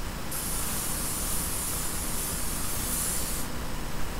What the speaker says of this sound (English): So spray your pan.